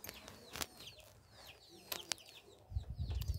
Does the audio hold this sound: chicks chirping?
yes